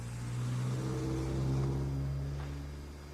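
A car engine stuck in snow revs steadily, the strained drone swelling and easing slightly over a few seconds, heard at moderate distance with no voices.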